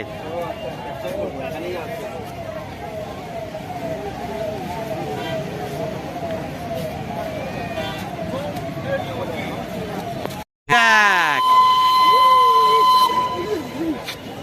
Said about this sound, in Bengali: এই মনে হয় স্টিম ইঞ্জিনটা আসছে